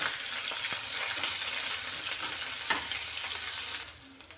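Green chili pieces and cumin seeds fry in hot oil in a kadai, a loud continuous sizzle with occasional stirring clicks, easing off near the end.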